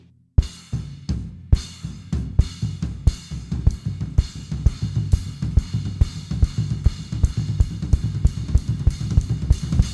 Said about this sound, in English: it's just an alternation between the floor tom and the cymbal.